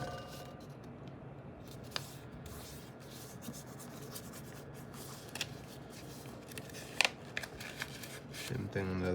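Paper crinkles and rustles steadily while being squash folded for an origami model, soft and close with occasional sharper creases and crackles throughout.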